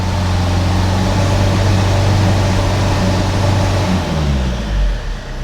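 A Vauxhall Insignia engine with a loss-of-power fault is held at around 2,500 rpm, a loud, steady close-up drone and rumble that eases off and dips in the final second.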